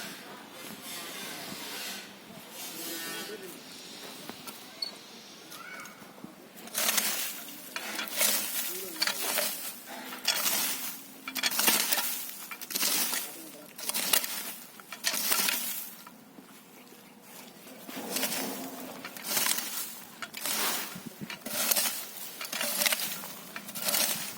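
A weeding tool cuts in a workshop demonstration near Melur in Madurai district, making repeated rhythmic scraping, chopping strokes that come in regular loud bursts one after another with no talking.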